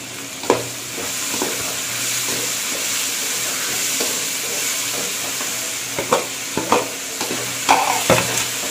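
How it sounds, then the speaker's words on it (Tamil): Tomatoes and curry leaves frying for mutton kuzhambu hiss with a steady close sizzle. Scraping stirs and clinks come irregularly and cluster toward the end. "இது நல்லா ஃப்ரை ஆகிடுச்சு"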